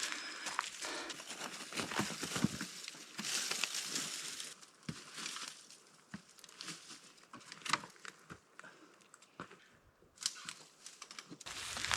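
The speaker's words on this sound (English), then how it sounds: "And now it's raining." Rain patters on a hiker climbing a narrow alpine footpad near Mount Bogong in the Victorian Alps, irregular close taps and rustling crinkles mixed with footsteps, fairly faint.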